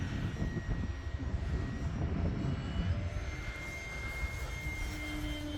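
A Mamba 10 G1 radio-controlled airplane takes off, its steady engine drone loud and continuous throughout, holding a fairly even level with a slight swell in the middle.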